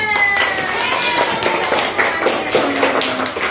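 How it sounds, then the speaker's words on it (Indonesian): Children in a religious studies classroom clap their hands together on cue, a brisk patter of claps and taps mixed with young voices talking and calling out at the same time. "Ya, tepuk tangan."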